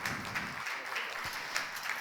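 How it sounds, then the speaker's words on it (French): Applause from a church congregation for people who ran a race that morning, a steady wash of clapping that sounds soft and somewhat distant, lasting a couple of seconds. "on peut les applaudir bien sûr"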